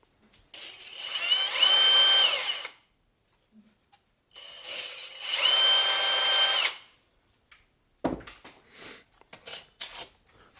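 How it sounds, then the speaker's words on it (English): A power drill whines through two sustained bursts of a couple of seconds each, drilling out a hole in a plate for a Hyundai Santa Fe front brake pad, separated by quiet, followed by clattering handling noises. "we have to drill this hole out so it fits over top of this"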